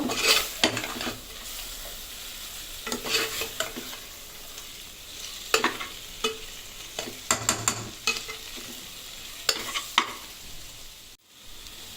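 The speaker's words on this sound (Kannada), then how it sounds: "ಎರಡು ನಿಮಿಷ ಇದರಲ್ಲಿ ಫ್ರೈ ಮಾಡಬೇಕು." Spice powder frying in a pan for a chicken curry, a steady close sizzle broken by repeated scraping stir strokes at an irregular rhythm, with no talking.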